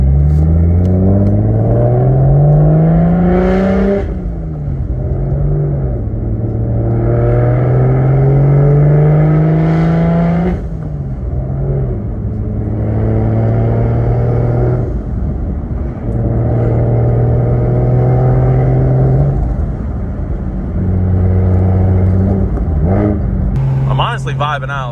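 A single-turbo BMW 335i at highway speed, around 80 mph, drones loudly and continuously, rising and falling through the gears with repeated revving sweeps, while a person talks over it.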